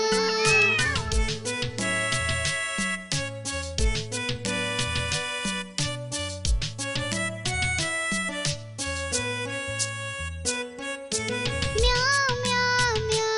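Repeated meowing is voiced in a children's rhyme about a cat, sung in rhythmic bursts over bright, synthesized backing music. A voice imitates the sound.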